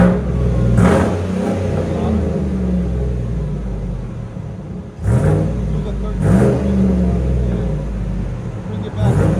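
Deep, loud rumble of a 2015 Chevy Tahoe LTZ's 5.3L V8 through straight-pipe exhaust, idling steadily near the listener with sharp revs swelling at about one, five and six seconds; people talk faintly underneath.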